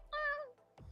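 A pet cat gives one clear, close meow of about half a second, followed by a soft thump or rustle.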